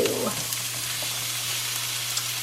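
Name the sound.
chopped onions and garlic sizzling in a greased pan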